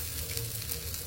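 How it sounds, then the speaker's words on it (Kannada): Koravai fish, a large 2.4 kg catch, sizzles steadily as it fries in hot oil, a dense even crackle with a low hum beneath, close and continuous throughout. "ಸಣ್ಣಕ್ಕೆ ಜಬರ್ದಸ್ತ್ ಆಗಿ ಬರ್ತಿದೆ ಫ್ರೈ."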